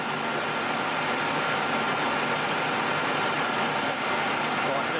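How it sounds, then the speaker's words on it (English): A metal lathe runs in a home workshop while a bearing is mounted on it, giving a steady, even machine drone with a constant hiss that holds unchanged for the whole stretch. "So I'll start the lathe."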